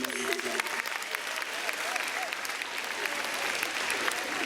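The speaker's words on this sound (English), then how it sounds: "A round of applause for her." Audience at a conference magic show applauds a volunteer spectator, a continuous crowd clapping that fills the room evenly, with faint voices and a few whoops under it.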